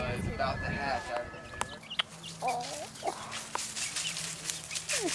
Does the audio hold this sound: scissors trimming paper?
no